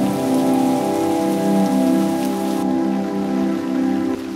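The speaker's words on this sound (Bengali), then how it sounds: "ঝমঝমিয়ে পড়ছে শ্রাবণের বৃষ্টি" Heavy monsoon rain pours steadily at Mukutmanipur dam in Bankura, a dense, close, continuous patter and hiss with no voices over it.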